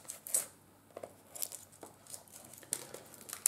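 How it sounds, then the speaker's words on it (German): Thin plastic shrink-wrap foil is torn off a movie mediabook case in a few quick, crinkly rips and crackles, close up and fairly quiet, with small pauses between pulls. "wir machen hier mal die Folie auf."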